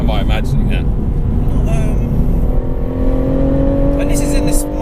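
A BMW M140i Shadow Edition engine accelerating hard, a loud rising engine note with a steady rumble, heard from inside the car while people talk over it.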